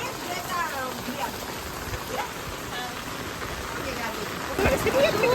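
Steady rain patters on surfaces around a house as the area out front floods, a broad continuous wash of drops with a slight swell near the end; a voice talks faintly in the background.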